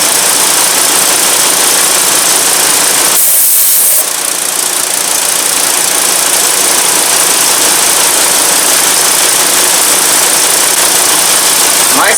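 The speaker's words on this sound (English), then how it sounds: "start the engine" A 2.5 L engine in an MK5 Volkswagen Jetta runs steadily, a loud close hum with broadband hiss throughout and a short shift in tone partway through, no talking.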